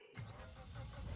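A police car engine in Garry's Mod DarkRP starts up and runs after a brief silence, giving a steady mid-pitched motor drone that swells slightly, fairly faint overall and free of talk.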